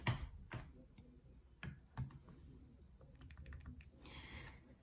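Numbers being typed into a calculator or keyboard, a faint irregular series of light taps and clicks, with a quick cluster of clicks near the end, quiet and close.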